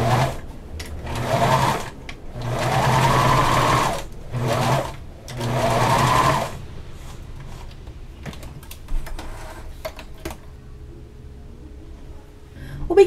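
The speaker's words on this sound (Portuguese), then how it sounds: "passo uma costura reta. Começo com o retrocesso, faço a costura e termino com o retrocesso." A sewing machine runs in several close, loud bursts, stitching a straight seam on bikini fabric with a backstitch at the start and end, then stops, leaving faint handling sounds and quiet room noise.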